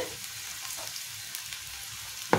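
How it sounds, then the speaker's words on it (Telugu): Colocasia leaf pakodi batter drops into hot oil over a medium flame, a brief steady bubbling sizzle heard close, ending with a sharp clatter. "ఆయిల్ కాగింది. ఇప్పుడు పకోడీ వేసుకుందాం."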